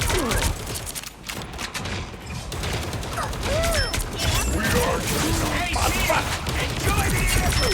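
Rapid bursts of gunfire and impact effects from the video game Marvel Rivals, dense and continuous over the whole stretch, with occasional zapping ability sounds layered in.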